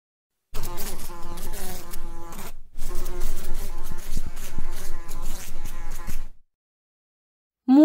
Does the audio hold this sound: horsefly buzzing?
yes